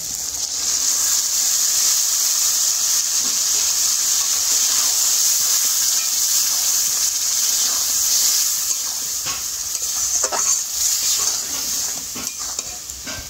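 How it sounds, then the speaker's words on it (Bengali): Boiled lentils going into a hot pan already holding chopped raw mango and turmeric for a Bengali mango dal, with a loud, continuous steamy hiss and sizzle, close up, and a few stirring clatters near the end. "এইবারে দিয়ে দেবো সেদ্ধ করে রাখা ডাল"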